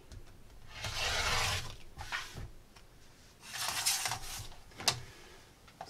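Fabric table runner edges sliced off along a ruler with a cutter, two long scraping passes and a few shorter strokes, close and moderately loud with no talking.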